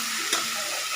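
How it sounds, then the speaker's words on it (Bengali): Chicken with softened onion and tomato stirred in a pan, a brief steady sizzle with a single soft scrape of the spoon near the start. "ঢাকনাটা খুলে এবার একটু নাড়িয়ে চালিয়ে নেবো"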